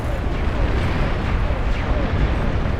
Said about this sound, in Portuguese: Olha a explosão do Catalyst.